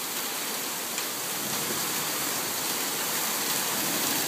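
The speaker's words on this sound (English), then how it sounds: "Another monsoon. It's like May 1st. There's some hail. It's coming down." Heavy monsoon rain with some hail pours down steadily outdoors during a big May storm, a dense, even roar of water with no breaks.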